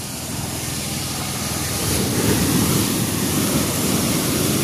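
Steady roar of sea waves washing on the shore during a typhoon, a continuous broad rush that swells slightly louder partway through, with no distinct voices.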